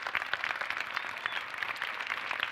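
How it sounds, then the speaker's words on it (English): A school audience applauds with steady, dense clapping at an administrators' recognition. The crowd sounds moderately distant and keeps a constant level throughout, with no voices. "let's give them a round of applause."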